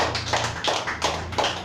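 A church congregation at a Sunday service claps in steady rhythm, with crisp, evenly spaced group claps of fairly loud volume about three per second.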